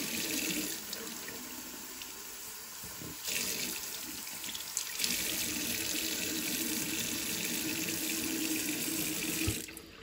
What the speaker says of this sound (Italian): lo tirate e ci mettiamo l'acqua